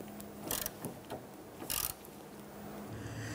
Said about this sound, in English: Then we're gonna use our 6mm socket and extension. Let's go ahead and tighten down that fuel filler neck hose.